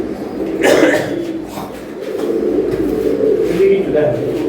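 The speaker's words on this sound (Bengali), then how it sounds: "হাড়ির ভিতরে পয়রা রয়েছে" Pigeons of a red and yellow fancy breed coo in a pot nest where a pair of chicks and two eggs sit, soft throaty calls rising and falling close by while someone talks over them.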